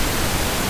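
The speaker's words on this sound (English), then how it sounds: "Pink noise sounds like this." Steady pink noise from a noise generator, a dense, even hiss weighted toward the low end, loud and continuous with no other sounds.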